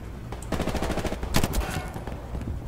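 Rapid automatic gunfire from the Battlefield video game rattles steadily, with a sharp higher ping of a headshot ding cutting through midway, loud and continuous throughout.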